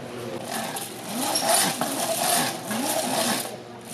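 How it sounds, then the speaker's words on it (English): An early 1900s Luther grinder, once used by farmers to sharpen shears, is fitted with a buffing wheel and buffing compound to smooth a rough cut edge. It gives a close, continuous mechanical whir that swells and eases in gentle cycles. "What we have here is an early 1900s Luther grinder that farmers used to sharpen their shears."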